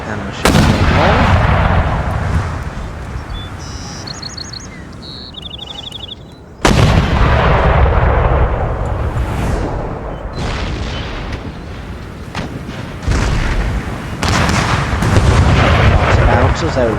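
Cannon and howitzer artillery fire during a siege battle in Empire: Total War, loud booming blasts in repeated volleys with a sharp heavy report midway and rumbling battlefield noise throughout.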